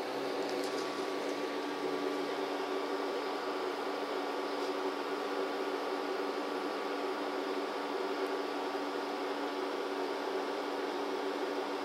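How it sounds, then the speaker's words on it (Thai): A PARAGO portable DC 24V air conditioner, set to cooling mode, runs its compressor with a steady, loud, unbroken hum and hiss and a few faint ticks, no talking. "ก็จะได้ยินเสียงคอมเพรสเซอร์ทำงานแล้วนะครับ"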